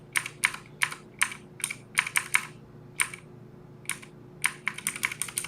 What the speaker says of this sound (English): I use a Philco Magis Touch keyboard.